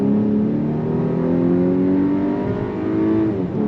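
A 2024 VW Atlas Cross Sport with an 8-speed automatic and all-wheel drive accelerating hard in sport mode, the engine rising steadily in pitch under load before easing off, loud and alone with no talk.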